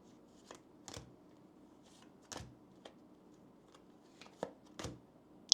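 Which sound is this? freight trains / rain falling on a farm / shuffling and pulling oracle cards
shuffling and pulling oracle cards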